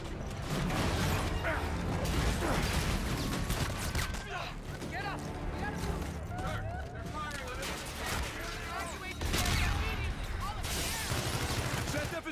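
Ship-mounted guns firing at an enemy fleet in the sci-fi shooter Call of Duty: Infinite Warfare, a dense, continuous clatter of mechanical gunfire and battle noise, with talk heard over it.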